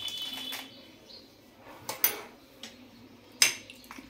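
A spoon stirs semolina pancake batter with black pepper in a bowl, giving a few sharp clinks and scrapes against the bowl with quiet gaps between them.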